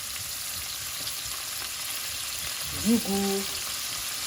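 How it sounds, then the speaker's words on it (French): Chopped onions, garlic and bell pepper sear in hot oil in a pan, giving a steady hiss throughout while someone speaks briefly near the end. "Je rajoute oignons coupés et ail. Je vais les saisir."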